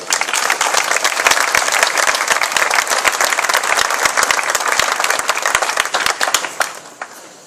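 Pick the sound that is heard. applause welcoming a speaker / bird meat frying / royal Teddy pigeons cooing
applause welcoming a speaker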